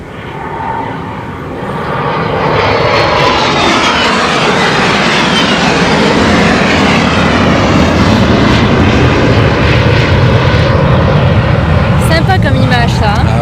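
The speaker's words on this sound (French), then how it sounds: "Il y a 2 avions de chasse, là, regarde." Two fighter jets roar overhead in a long, loud sustained rumble that swells and holds for many seconds, with people talking in the foreground.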